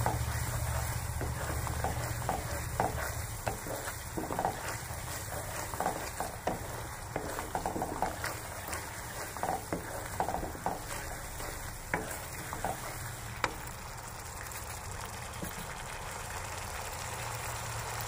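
Yogurt being stir-fried over high heat in a pan for doi katla, a continuous sizzle with frequent scraping stirs and spoon clicks against the pan, close and fairly loud, with no speech.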